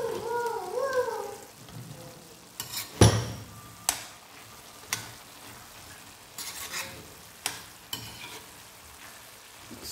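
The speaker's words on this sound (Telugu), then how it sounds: "అలానే గరం మసాలా ఒకసారి అయితే కలుపుకుందాం." Garam masala being stirred into bottle gourd curry frying in a pan: a soft steady sizzle under repeated scraping and clinking strokes of a spoon against the pot, plus a brief hiss early on.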